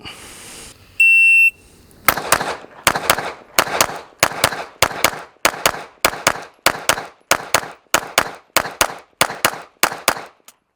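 Glock 17 Gen 6 pistol fired in rapid pairs on a practice range, about twenty loud, sharp, close shots in an even cadence of doubles, preceded by a brief electronic shot-timer beep.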